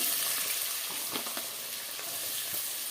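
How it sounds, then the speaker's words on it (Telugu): Green chillies and onions sizzle steadily in hot oil for a Telugu-style fish curry, a close, continuous frying hiss with a few faint stirring clicks and no voices. "ఇప్పుడు పచ్చిమిరపకాయలు వేస్తాను తర్వాత ఉల్లిపాయలు కూడా వేస్తున్నాను"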